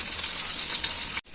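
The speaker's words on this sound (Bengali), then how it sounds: "এভাবে উল্টাতে এদিকে করে আমি মাছগুলো ভেজে নেব" Pieces of rohu fish fry in hot oil, giving a loud, steady, close sizzle that cuts off abruptly near the end, with no talking.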